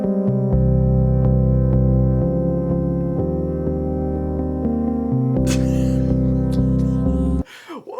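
Song intro built on four simple repeated chords, sustained harmonic tones played steadily and loudly for about seven seconds before cutting off abruptly, with a brief noisy burst near the end.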